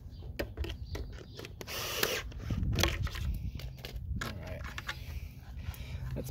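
A locking battery compartment cover on an Electric Bike Company Model R e-bike is tightened by hand, giving close, irregular clicks, taps and brief ratcheting scrapes of a tool with no talk.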